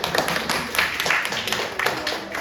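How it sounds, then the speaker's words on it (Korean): A church congregation claps after a sermon, uneven bursts of handclaps at moderate volume, close and scattered rather than a thick roar. "박수하겠습니다."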